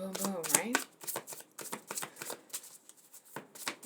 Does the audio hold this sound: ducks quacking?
no